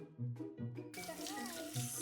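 A shower sprays water during the grooming of an Australian Labradoodle puppy. A steady hiss of running water starts about a second in, after a few brief voiced sounds, and carries on loud and close to the end.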